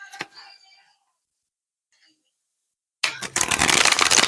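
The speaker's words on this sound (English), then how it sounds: "It's hard to shuffle here." After a brief sound and a quiet pause, a deck of cards is riffled close by in a loud, rapid fluttering burst.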